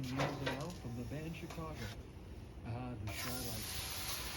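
Burgers searing on a hot surface at 515 degrees give a steady broadband sizzling hiss that runs throughout, partly masked by someone talking over it, and swells clearer and brighter near the end.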